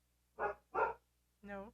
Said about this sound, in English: you probably hear some barking in the background